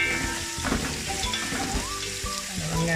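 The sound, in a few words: sliced onions frying in oil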